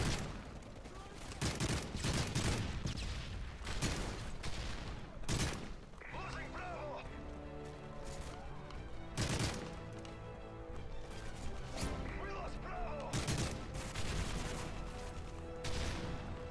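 Gunfire in Call of Duty Modern Warfare III during a Domination match on the Village map: repeated bursts of automatic fire and sharp shots crack through the whole stretch, loud and close, with game sounds and players talking underneath.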